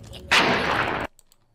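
A single sustained burst of video game gunfire, loud and close, lasting under a second before cutting to near silence.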